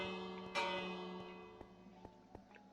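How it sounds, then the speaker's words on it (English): A church bell rings out from a bell tower in Minecraft, one strong struck tone with a long shimmering decay, followed by a few faint ticking knocks as the ringing fades. "the bell tower"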